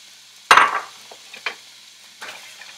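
Bacon dropped into a pan for down-home green beans gives a sudden loud clatter and sizzling burst, followed by a couple of softer scrapes and a faint sizzle fading in and out.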